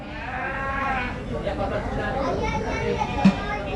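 Goats bleat at a qurban sacrifice gathering where goats and cattle are assembled, with repeated wavering cries rising over a steady murmur of crowd voices and children.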